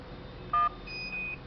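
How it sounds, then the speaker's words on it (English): Keypad tones from a mobile phone controlling home lights and appliances: one short DTMF tone followed by a longer two-part confirmation beep, clear and close on a quiet line. "press 8, you will get a single beep, and 9, you will get a double beep"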